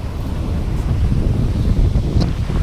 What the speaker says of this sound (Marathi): क्राऊड कमी आणि शांतता जास्त असा हा बीच आहे.